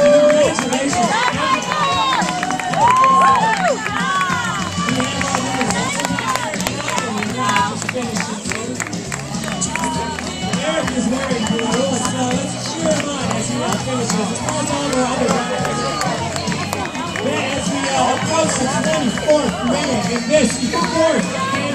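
A crowd gathers at the finish line of the 2012 Itasca Oktoberfast 5K road race, with a steady, dense hubbub, scattered clapping and voices calling out, all continuous and fairly loud throughout.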